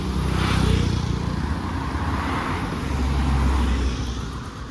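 Steady motor traffic rumbles past on a quiet residential street in Kigali, cars and motorbikes droning continuously with a swelling and fading low roar, moderately close, and no voices.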